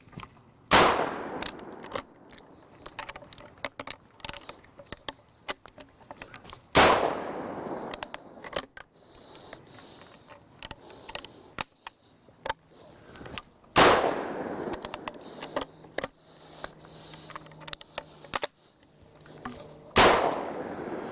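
Four loud gunshots fired outdoors in the thick manzanita brush of Manzanita Hill. Each sharp report is followed by a ringing, echoing tail, and the shots are spaced several seconds apart with quieter rustling between them.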